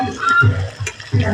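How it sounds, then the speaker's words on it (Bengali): Potatoes and meat with chili frying in a pan, with brief stirring scrapes and soft sizzling bursts in short irregular spurts, close up. "এই যে আলুটা ভেজে নিচ্ছি"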